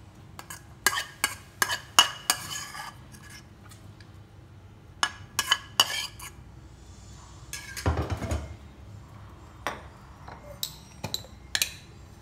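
Shrimp and pork being mixed with minced garlic and shallots for a marinade, with scattered sharp clinks of a utensil against a bowl and soft stirring, quiet and close.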